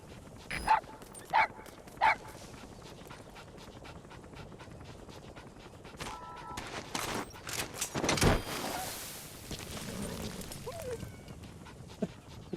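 A dog in Metal Gear Solid V gives three quick, sharp barks, then pants and whimpers softly, with scattered game effects and a burst of gunfire-like noise in the middle, fairly quiet overall.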